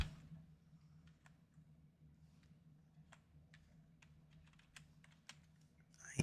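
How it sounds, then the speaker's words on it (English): Scattered keystrokes tap on a computer keyboard at an uneven, unhurried pace, close and fairly quiet against a low room hum. "I am typing stuff."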